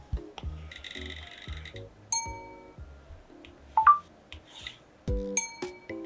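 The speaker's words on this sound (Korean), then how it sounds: "프로크리에이트에서 알림음을 추가했어요" A series of short, bright electronic chimes and blips from the Procreate drawing app's feedback sound effects sound in quick succession, playful tones rising and falling like notification effects.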